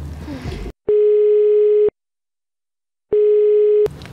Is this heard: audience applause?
no